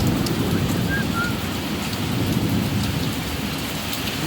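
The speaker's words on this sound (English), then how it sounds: "There comes some more rain." Heavy summer rain pours steadily in a hailstorm in Central Florida, a dense, continuous roar with low thunder rumbling underneath throughout.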